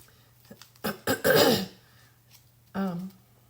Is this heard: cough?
yes